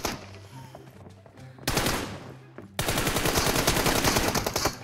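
Automatic M4 rifle fire in PUBG Mobile, sharp rapid bursts cracking out loud and close, a short volley followed by a longer sustained string of shots.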